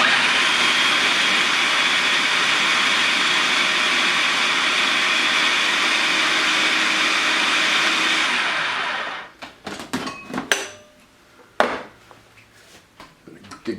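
A food processor whirs loudly and steadily through a falafel burger mixture for about nine seconds, then stops, followed by scattered clunks and knocks of the lid and bowl.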